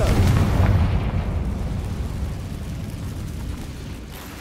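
A Confringo fire spell explodes in Hogwarts Legacy with a loud, deep boom that rumbles and slowly decays over several seconds.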